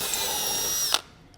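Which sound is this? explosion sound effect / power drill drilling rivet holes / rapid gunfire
power drill drilling rivet holes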